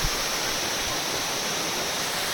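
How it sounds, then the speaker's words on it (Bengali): A mountain waterfall rushes down a hillside valley in Kalimpong. The roar is loud, broad and continuous, with no other sounds over it. "দেখো কত সুন্দর, ওপর থেকে পাহাড়ি ঝর্ণা নিচে বয়ে আসছে।"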